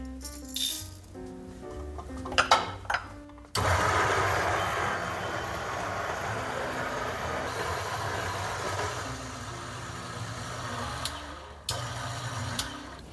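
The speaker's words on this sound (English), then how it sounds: "So let's grind at 14 and see what we get." After a few clunks, a coffee grinder set to 14 roars steadily for about eight seconds, a loud gritty rattling whir grinding beans for espresso, then cuts off with a couple of knocks.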